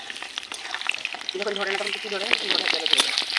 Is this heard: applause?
no